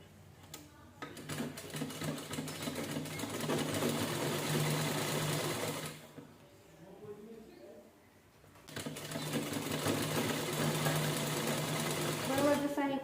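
Electric sewing machine stitching a princess blouse, running in a steady loud whir for several seconds, stopping briefly, then starting again and running to the end.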